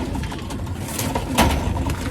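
Young Haifa pigeon from a loft cooing in a short burst of low, throaty sound close by, with some rustling.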